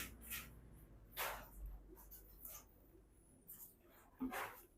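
A few sharp dog barks ring out at intervals, moderately close, over a quiet outdoor background at a public cemetery.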